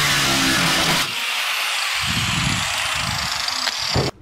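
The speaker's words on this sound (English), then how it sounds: "I'm going to rough up the bottom surface so that the adhesive has a better surface to grab hold of." A power tool roughs up the surface of an aluminium plate on a boat repair, a loud continuous grinding whir with its pitch and load shifting as it presses and lifts, close by.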